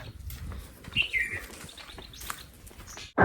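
A koel calls a few times mid-distance, its short bright phrases standing out over quiet outdoor household background noise, ending with a sudden loud thump.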